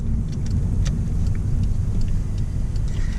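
Nissan Skyline GT-R with a Nismo short throw shifter, a steady low engine drone and road rumble filling the cabin at an even level, with faint clicks from the gear lever being moved between gears.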